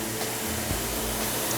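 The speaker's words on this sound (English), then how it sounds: "The seamer is a hot air steamer which actually melts the PVC vinyl together to form a 1-inch seam" A hot air seamer in a tarp finishing shop melts PVC vinyl panels together into a one-inch seam, giving a steady, loud, even blowing hiss with no talk.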